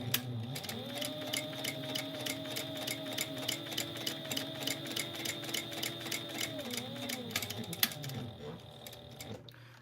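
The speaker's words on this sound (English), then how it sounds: "I'm going to sew at 1/8 of an inch down each long side." Sewing machine stitching a 1/8 inch seam down a long side of fabric, a steady close whirring hum with regular ticking needle beats, running evenly before slowing to a stop at the end.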